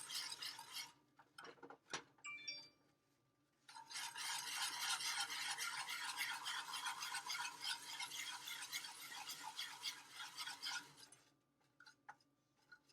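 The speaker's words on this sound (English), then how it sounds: "I'm gonna stir it all together." A utensil stirs brown sugar and milk in a bowl for a banana recipe, giving a few scattered clinks and scrapes and then a long, steady gritty scraping swirl before trailing into brief taps.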